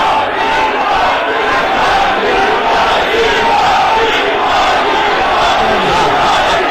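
A large crowd of supporters at the BJP headquarters in Delhi, chanting and shouting loudly as Prime Minister Modi arrives, a dense continuous roar with no pauses.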